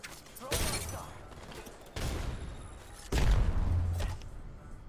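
Frag grenades go off in a video game as three heavy booming blasts, each followed by a rumbling roar, loud and close, one after another.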